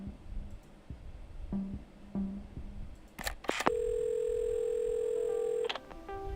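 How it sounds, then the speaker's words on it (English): A telephone in the video game Assemble with Care: a few soft clicks and taps as the receiver is picked up, then a steady dial tone hums for about two seconds before cutting off. "I reached for the phone and it all came flooding back."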